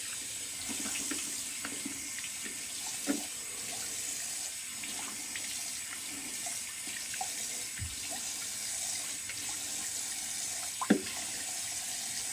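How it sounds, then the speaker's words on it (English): A faucet runs cold water into a bathroom sink for a rinse after a wet shave, a steady soft hiss with a few small clinks and splashes nearby. "All right, rinse with some cold water."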